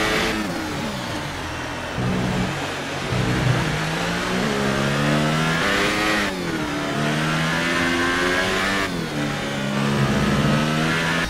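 F1 2018 race car with a faulty, slow-shifting gearbox, its engine revving loudly and climbing in pitch, with several sluggish upshifts that drop the tone before it rises again.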